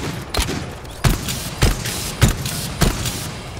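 Gunfire in the co-op shooter GTFO: five sharp, loud shots spaced roughly half a second apart over a steady background rumble, each with a brief echoing tail.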